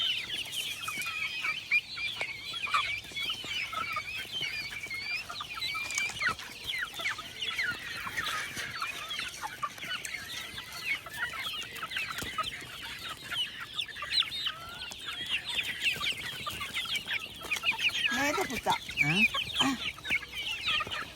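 Chickens cluck steadily in a busy flock while eating feed on a farm, with pecking and scratching around them, and a brief spoken question near the start.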